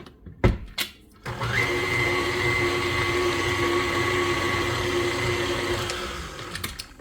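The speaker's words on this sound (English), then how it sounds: "continue beating it to make sure we get all that sugar mixed in" An electric mixer whirs steadily as it beats cake batter with sugar, starting after a couple of knocks and running loud and continuous for several seconds before winding down.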